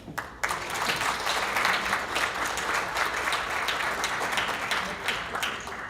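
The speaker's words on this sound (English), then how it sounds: "I'd like to have one more round of applause for you all" A room of members at a Royal Rosarian membership meeting applauds the council candidates, starting abruptly and holding a steady, moderately loud clapping for several seconds.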